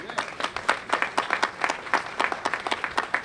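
Audience applause at a 2016 Memorial Day ceremony in Miami Beach honoring American Legion Post 85 veterans: dense, steady clapping from a sizable crowd, fairly close and sustained throughout with no talking.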